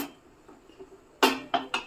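A dhokla mold is set into a preheated pot of boiling water: soft scrapes, then three sharp metallic clanks of metal against metal close by.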